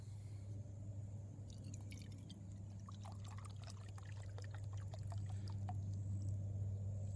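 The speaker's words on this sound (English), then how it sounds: "So we're going to put a cup and 3/4 of water in here." Water poured from a cup into a Czech mess kit pot outdoors in the woods, a faint trickling and dripping with soft splashes over a low steady background hum.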